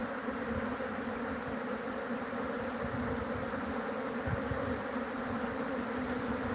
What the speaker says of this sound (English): So bees swarming like this are actually just looking for a home.